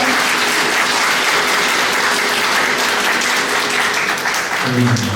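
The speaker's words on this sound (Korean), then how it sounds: "여러분 큰 박수 부탁드리니다" Wedding guests in a hall at Trinity Hall in Hapjeong applaud steadily and loudly throughout, with a voice and some tonal sound rising briefly near the end.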